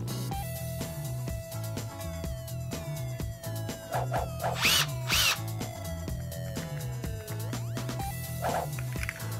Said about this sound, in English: This is where I need to pre-drill because the wood's so thin.